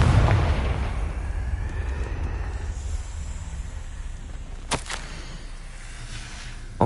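A Confringo fire spell in Hogwarts Legacy bursts into a deep explosion that opens with a loud boom, rumbles and fades over several seconds, then two sharp cracks sound later.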